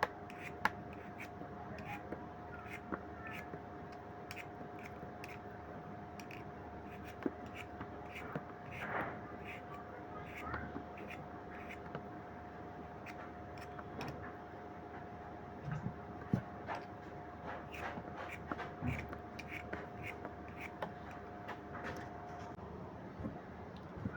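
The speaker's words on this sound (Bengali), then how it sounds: "আলুগুলো ছেলে নিচ্ছি।" Potatoes being peeled by hand, with irregular small scraping clicks and taps that continue quietly and unevenly, some closer and sharper than others, with no talking.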